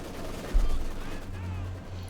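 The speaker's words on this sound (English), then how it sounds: "The MG42 setting up there for Acehiro." An MG42 machine gun fires in Company of Heroes 2, a World War II strategy game, with a sharp burst early on over a low rumbling battlefield ambience that continues to the end.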